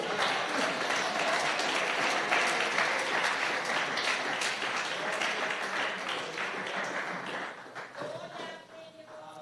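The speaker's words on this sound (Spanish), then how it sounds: "Regálele un aplauso al Rey," Congregation in a church service claps and applauds, a dense sustained wash of many hands that fades toward the end, with some voices mixed in.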